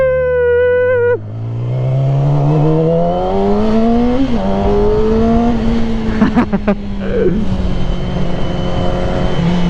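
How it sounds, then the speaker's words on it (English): A Yamaha R6 sport motorcycle on the road, its engine dropping through a gear change and then climbing steadily in pitch as it accelerates, loud and close, with wind noise and a few brief bursts of talk. "now here I am riding the R6"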